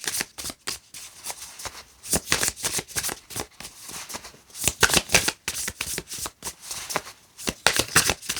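A deck of tarot cards is riffled and shuffled close by in quick repeated bursts of crisp flapping, separated by short pauses.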